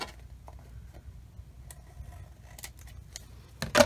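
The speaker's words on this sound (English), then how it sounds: "using my long shears" Long crafting shears snip through vellum to trim the excess around a mounted image on a handmade card, faint scattered clicks at close range, with a louder rustle or thud right at the end.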